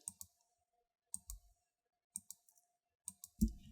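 Computer mouse clicks on letters while the shift key is held, sounding as quick pairs of sharp, close clicks repeated in four short bursts, with a soft thump near the end.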